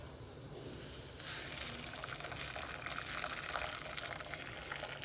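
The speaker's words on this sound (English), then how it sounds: "we got some boiling water, lightly salted. We're going to put this boiling water" Lightly salted boiling water poured into a watercress mixture, starting as a low trickle and turning into a steady rushing pour that runs close and even to the end.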